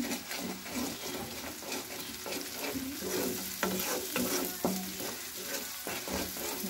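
Onion, ginger, garlic and green chilli paste sautés in hot oil for masoor dal, a busy sizzle with rhythmic scraping and a few sharp spoon knocks against the pan.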